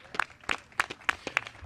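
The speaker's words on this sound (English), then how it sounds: "Let's give them a round of applause." Short burst of clapping from a small crowd honoring a street and bridge maintenance crew at an outdoor pothole-repair kickoff event, with a handful of distinct, uneven claps close by.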